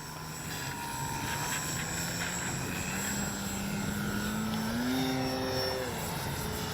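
An electric RC Dynam Tiger Moth biplane model spools up for takeoff, a loud steady whining motor and propeller buzz whose pitch climbs as throttle increases, close to the listener, with no talking.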